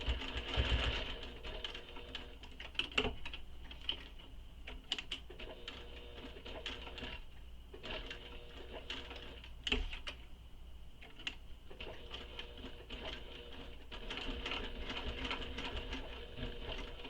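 A sewing machine top stitches across a handmade handbag, running in several short bursts of rapid ticking separated by brief pauses, fairly quiet and close with no talk.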